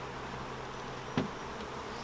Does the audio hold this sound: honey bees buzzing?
yes